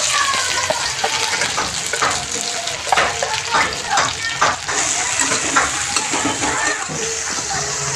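Onion sizzles in hot oil together with chopped garlic and chili, a loud, steady frying hiss broken by intermittent stirring scrapes, with a voice briefly heard under it.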